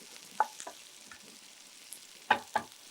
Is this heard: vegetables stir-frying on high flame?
yes